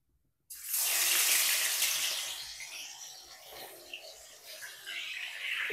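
Pieces of katla fish hit hot oil in a pan with a sudden loud hiss that settles into a steady crackling sizzle, fading slightly but continuing on its own.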